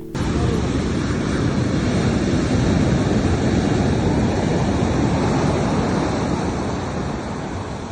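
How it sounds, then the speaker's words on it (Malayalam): Strong sea waves roll onto a beach near Alappuzha, producing a loud, continuous roar of surf mixed with wind buffeting the microphone, steady throughout and easing slightly at the end. "തിരമാല കുറച്ച് ശക്തിയുള്ളതായിരുന്നു"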